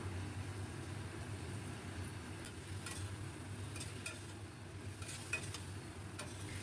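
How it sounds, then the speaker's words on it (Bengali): Prawns being stir-fried in masala in a pan, a steady low sizzle with soft scraping and occasional clinks of a spoon against the pan, close and fairly quiet. "এইভাবে কষাতে কষাতেই রান্নাটা শেষ হয়ে যাবে, চিংড়ি মাছও পুরোপুরি সেদ্ধ হয়ে যাবে।"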